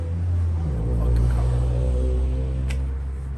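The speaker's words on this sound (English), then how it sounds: "And another car." A car passes outside in a quiet residential neighborhood, a deep low rumble that swells and fades over a few seconds, steady and moderately loud with no voices.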